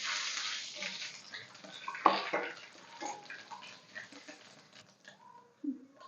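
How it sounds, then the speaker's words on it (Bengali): Dry red chillies, a bay leaf and five-spice seeds hit hot oil in a pan, a hissing crackling sizzle that is strongest at first and then fades into quieter spitting. "তেলের মধ্যে শুকনো লঙ্কা, তেজপাতা আর 5 ফোড়ন দিয়ে দেবো"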